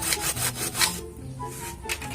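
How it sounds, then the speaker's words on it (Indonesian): Hand saw cutting partway through a piece of wood, its strokes rasping in a steady back-and-forth rhythm of about five or six strokes, close and alone apart from a short pause. "Ini nggak usah sampai gergaji habis kawan-kawan, karena setelah ini kita mau pahat lagi ya kawan-kawan."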